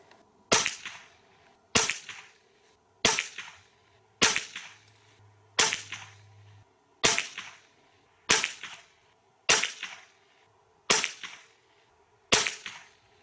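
Hatsan AT44 Long LW 4.5 mm PCP air rifle firing GSP Exact Heavy 10.34-grain diabolo pellets, ten sharp close cracks spaced evenly about 1.3 seconds apart, each ending in a short ringing tail.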